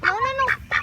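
Baby goslings call in a short run of bright peeping chirps, several quick calls close by, one rising and falling across the middle, with faint background noise and no talking.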